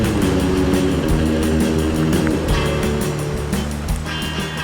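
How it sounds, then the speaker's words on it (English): A permanent standing wave on the St. Lawrence River, across from Old Montreal, where swift water rushes over the riverbed, gives a loud, continuous roar of churning rapids with no voices. "there's a permanent wave here caused by swiftly moving water over the river bottom"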